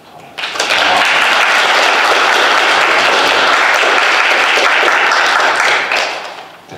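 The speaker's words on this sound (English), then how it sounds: "let's give Jean a plateau round of applause." A Baptist church congregation breaks into a sustained round of applause, dense and loud clapping from many hands that starts sharply, holds steady for several seconds, then tapers off.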